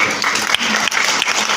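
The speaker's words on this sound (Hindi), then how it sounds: "जोरदार ताली कीजिए।" An audience at a parenting workshop claps together, a dense, loud burst of applause filling the short moment without pause.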